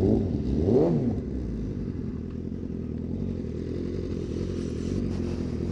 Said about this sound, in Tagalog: Revving.